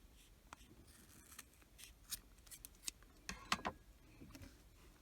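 Scissors snipping yarn strands to trim a crochet tassel, several crisp close cuts scattered irregularly over a quiet room, the sharpest snips bunched near the end.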